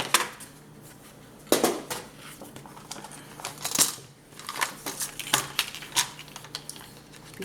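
A paper card being cut along its bottom edge for a scrapbook album, a series of close crisp snipping and crinkling sounds in irregular bursts, no voices.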